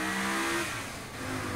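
Car engine revving as it drives in the video game Saints Row: The Third, a steady mid-pitched engine drone that rises and dips slightly, heard alone.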